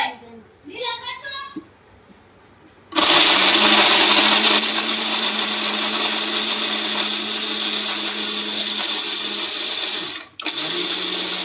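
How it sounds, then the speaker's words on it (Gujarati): Pieces of muthiya are chopped in an electric mixer grinder that starts abruptly after someone speaks, then whirs loudly and steadily for several seconds before a brief stop and restart. "તો આપણે મુઠિયા હવે મિક્સરમાં ઓલા કરી નાખીએ."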